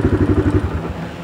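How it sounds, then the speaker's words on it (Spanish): A motorcycle engine idling close by, its exhaust beating in a quick, even pulse for the first half-second before smoothing into a steadier drone. "la moto tiene un sonido sabroso, me gusta"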